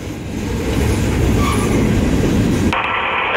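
A CSX ES46DC locomotive leads a freight train through Fayetteville, North Carolina, passing close by with a loud, steady rumble and rolling wheel noise before the sound thins abruptly near the end.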